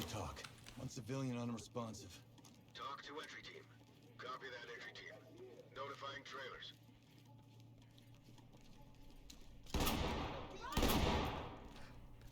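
Two sharp, loud less-lethal shotgun blasts in the video game Ready or Not ring out near the end, following a stretch of quieter game audio with a steady low hum underneath.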